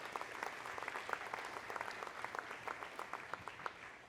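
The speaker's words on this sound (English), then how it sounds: "Let's give them a round of applause again." An audience at an evening historic preservation awards ceremony claps steadily in a sustained round of applause, heard from a distance with no voices over it.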